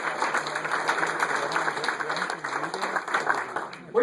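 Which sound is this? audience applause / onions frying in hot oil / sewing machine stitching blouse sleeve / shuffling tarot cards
audience applause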